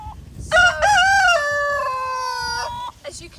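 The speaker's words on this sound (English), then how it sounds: "these hens are scratching around" Chickens at an animal sanctuary with about an acre of open ground, giving one loud, drawn-out crowing call lasting more than two seconds, followed by a brief cluck, close by with no talking.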